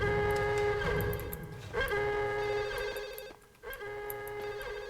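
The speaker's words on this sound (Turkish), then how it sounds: "Ya abi şu lanet telefon sesi nereden geliyor ya?" Telephone ringing in the video game Max Payne, a bright electronic bell ring repeating in steady bursts with brief gaps, loud and close over a low background hum.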